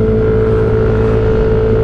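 A Yamaha Aerox 155 VVA scooter engine pulls hard from low speed, a loud sustained drone with strong wind rush, steady and close throughout.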